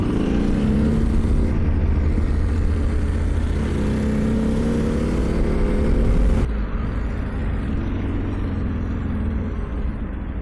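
Yamaha Tenere 700 motorcycle rolling into the port at Tangier, its engine a steady low rumble held close and loud throughout, with a slight drop in level partway through as it slows.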